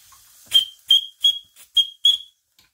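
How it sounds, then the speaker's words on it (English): Five short, shrill whistle blasts from a model live steam engine's boiler whistle on its first steam test, in a steady rhythm, each a high piercing toot with brief silences between, no talking. "Try that whistle."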